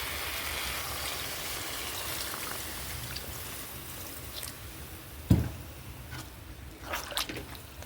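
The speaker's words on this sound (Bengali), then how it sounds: "এবার আমি জল ঢেলে দেব।" Water poured into a cooking pot over spice-coated fritters, a soft, faint trickling stream under a steady hiss, with one sharp knock midway and a few splashy bursts near the end.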